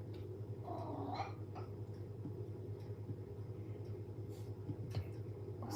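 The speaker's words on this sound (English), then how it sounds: "Oh, kitty cat." A cranky cat lets out a few faint, grumbling meows early on, then goes quiet over a steady low indoor hum, with no one talking.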